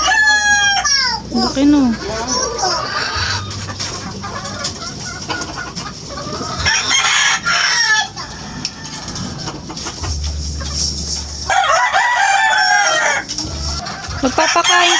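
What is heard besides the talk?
pet chickens clucking and rooster crowing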